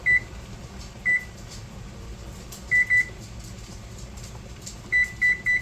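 Microwave oven beeps as its timer is set for potatoes, with short bright beeps in clusters of one to three across several seconds over a faint steady hum.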